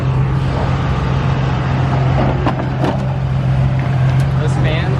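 The cooling fans of a Nissan 370Z Nismo drift car roar at full speed nearby, a loud, steady whooshing drone with a low hum, while a person talks over it.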